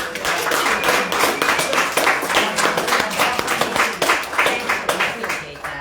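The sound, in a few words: applause in a meeting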